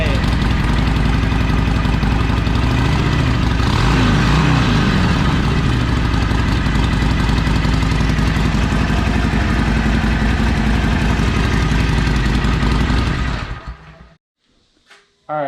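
A 2020 Harley Sportster fitted with a Danmoto Highwayman exhaust idles loudly indoors, a deep, dense, steady rumble with a slightly lumpy rhythm, running unbroken for many seconds before shutting off abruptly into near silence with a faint click.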